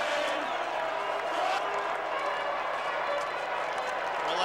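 A big crowd at the MCG roars and cheers steadily through the 1990 AFL Grand Final between Collingwood and Essendon, a dense, loud wash of noise with a faint tone running underneath.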